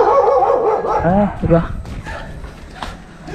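A dog barks and whimpers close by at a home, a short burst of sharp calls partway through, while people talk over it.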